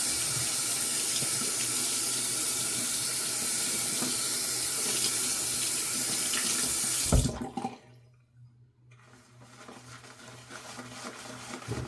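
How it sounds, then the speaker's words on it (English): A bathroom faucet runs steadily to wet a shaving brush, a loud, even rush of water up close. It shuts off partway through and is followed by quieter handling sounds. "get that brush wet."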